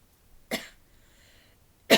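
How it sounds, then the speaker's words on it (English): A person has a coughing fit: two loud, close, harsh coughs separated by a short pause, with no talking. "Sorry, I had a coughing fit."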